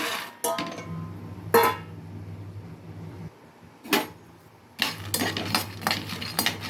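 Peanuts dropped into a pan of oil on a lit stove, giving a few sharp clatters and rattles in separate bursts over a low steady hum, close and fairly loud.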